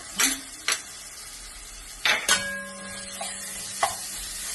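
Crushed ginger and garlic sautéing with onions in a pan, a soft sizzle under a few sharp metallic clinks and scrapes of a spoon, one leaving a brief ringing tone.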